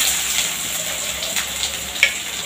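Chopped onions with cumin and a little cardamom sizzle steadily in hot oil, a close, continuous crackling hiss with faint scraping as they are sautéed.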